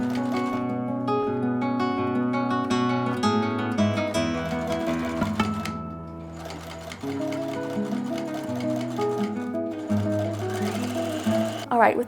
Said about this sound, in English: you're going to sew that stem in with that last seam at the top